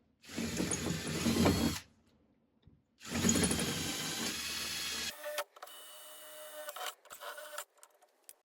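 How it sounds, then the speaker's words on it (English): A power drill with a 5mm bit whines in two bursts of about two seconds each, drilling out rivets on a Seat Arona door mirror, followed by short clicks and rattles of metal bits being handled. "I'm drilling them out with a 5mm rivet, 5mm drill bit."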